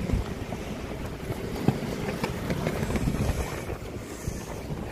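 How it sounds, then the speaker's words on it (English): Wind buffets the microphone outdoors in a storm with rain, a loud continuous rumbling roar with gusty swells and scattered crackles, no voices present. "It's so windy and rainy."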